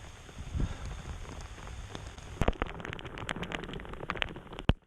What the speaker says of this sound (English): Rain is still coming down just relentlessly.